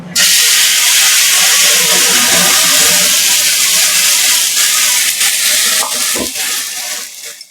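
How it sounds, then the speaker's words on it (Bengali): Loud, steady hissing sizzle as tomato, ginger and chili spice paste hits hot oil in a frying pan, with a burst of steam that gradually settles; no talking. "এবার আমি যে মশলাটা করেছিলাম টমেটো আদা লঙ্কা দিয়ে এটা আমি দিয়ে দেবো"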